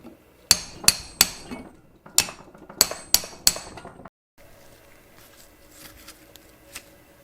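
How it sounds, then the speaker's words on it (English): Sharp metallic hammer blows ring out close as a Saab 900 steering tie rod is peened, in two quick sets of three, then quiet faint clinks and shuffling follow. "just hammering until I get a nice peen"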